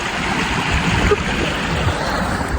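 Rushing water of Mission Creek, steady and close, a broad continuous wash with small splashes as a hiker fords it on foot on the Pacific Crest Trail, no talk over it.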